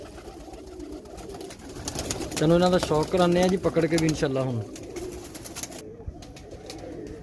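Pigeons, a grey breeder variety kept in a Faisalabad loft, coo softly under someone talking in Punjabi, their low murmurs blending with his voice nearby.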